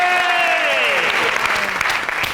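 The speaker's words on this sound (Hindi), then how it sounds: "तालियां बजाओ।" A studio audience at a music talk show claps loudly and steadily throughout. Sustained tonal sounds, gliding downward, run underneath the clapping.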